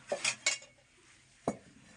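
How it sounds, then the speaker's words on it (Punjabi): A metal kadai set onto a stovetop while cooking rajma, heard as two quick close clanks, another knock, then a single sharper metallic thud after a short pause, with no voices. "ਹੁਣ ਆਪਾਂ ਧਰ ਲੈਨੇ ਆ ਉੱਪਰ ਕੜਾਹੀ"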